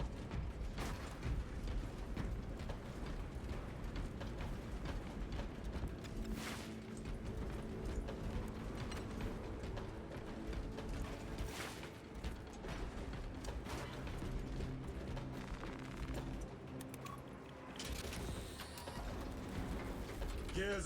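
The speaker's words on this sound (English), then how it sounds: "Gears are grinding like an old contraption." Bridge mechanism gears grinding in the video game Space Marine 2, a continuous loud mechanical churning with ratcheting clanks and creaks, steady throughout with occasional brief metallic bursts.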